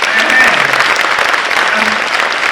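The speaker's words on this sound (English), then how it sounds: "Can we have a round of applause for her" Audience applause at a teenage career mentorship summer program, a steady dense round of clapping that fills the whole stretch at full strength without a break.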